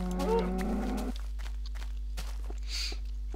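A cow in the Minecraft video game lets out one low moo during the first second, then soft in-game footsteps tap steadily over a faint background hum.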